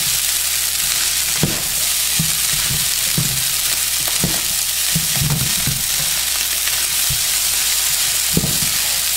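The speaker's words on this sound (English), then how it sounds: "It's a lot of stirring," Fried rice with egg sizzles steadily in butter in a pan, with repeated scraping stirs of a utensil breaking through the constant frying hiss; close and even throughout, no talking.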